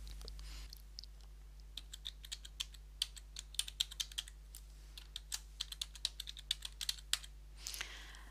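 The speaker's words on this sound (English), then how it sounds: "type in the email address that you normally use" Someone types on a computer keyboard, with uneven bursts of close, crisp key clicks over a low steady hum and no speech.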